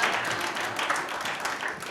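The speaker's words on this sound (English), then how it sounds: "wait for applause to die down" Audience applause in a live hall at a podcast talk, a steady dense wash of many hands clapping at moderate volume that holds evenly for the whole stretch.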